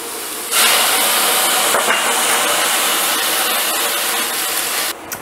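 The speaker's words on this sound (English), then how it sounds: "So this is the onions, and I will add some water, and I'll keep on frying them" Onions frying in a pot with water added give a loud, steady sizzling hiss that starts abruptly and holds before dropping off near the end, no talking.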